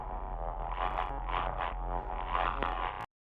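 Terminator sound effect from the Half-Life: Alyx game files, a dense buzzing electronic-mechanical texture with pulsing bursts that holds steady for about three seconds and then cuts off abruptly, heard alone without talk.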